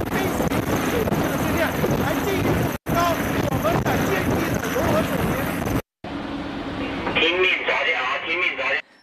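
A helicopter lands on and lifts off the flight deck of the Type 075 amphibious assault ship Hainan at sea during flight training, with a loud, steady rotor and engine roar and continuous talk over it.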